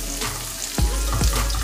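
Vegetables frying in a pan for penne pesto pasta: a close, steady sizzle with a few sharp clatters of stirring near the end.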